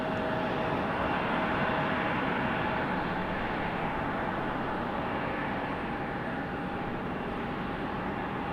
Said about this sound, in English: This is our second A220 of the day